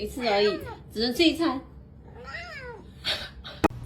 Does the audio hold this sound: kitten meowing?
yes